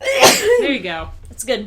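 A single sharp sneeze bursts out near the start, loud and close, followed by people talking.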